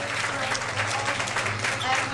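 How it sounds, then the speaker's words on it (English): Applause from the audience at a charity fashion show, a continuous, moderately faint wash of clapping filling the brief moment, with voices mixed in. "big round of applause here"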